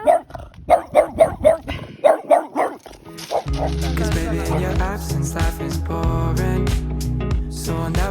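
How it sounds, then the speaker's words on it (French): A small dog barks repeatedly, about eight quick, sharp yaps in a row, then steady music takes over. "Il y a un petit chien."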